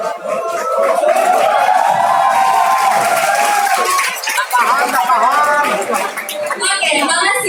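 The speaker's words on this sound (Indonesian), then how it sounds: "makasih ya atas tepuk tangannya" An audience at a campus student orientation event claps and cheers loudly and continuously, with crowd chatter and clinking mixed into the applause.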